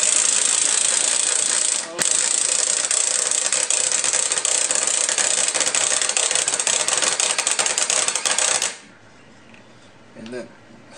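A Bosch impact driver with weak torque drives a 2.5-inch screw, giving a loud, steady, harsh buzzing whir for about nine seconds before it stops abruptly, leaving quiet room noise.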